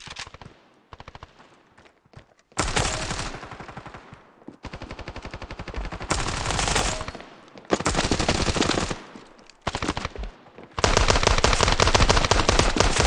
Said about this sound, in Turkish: AK-47 efekt herhalde